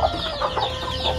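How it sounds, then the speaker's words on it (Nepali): Chickens cluck and chatter at their coop in a Nepali village home, with several overlapping calls close by at a steady level throughout. "यो हाम्रो कुखुराहरूको घर यहाँ"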